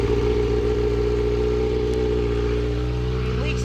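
A rebuilt Kawasaki ZX6R motorcycle engine idles steadily and loudly close by, a continuous throbbing drone with no revving, while a person talks over it.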